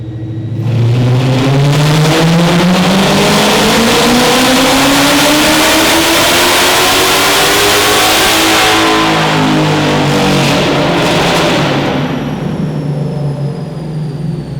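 The 2024 Silver Bullet car, fitted with 2-inch headers and running E85, revs hard on a dyno, its engine climbing in a long loud sweep to a high screaming peak before easing back down.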